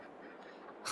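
Ducks quacking in a Farming Simulator 22 game farm, a steady run of quacks with background noise, ending in a sudden louder burst of sound.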